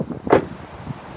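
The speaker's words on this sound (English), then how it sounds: "We have to do the proper door shut sound." A heavy Honda Accord Estate car door shuts with one solid thud, close and fairly loud, followed by a faint settling rattle.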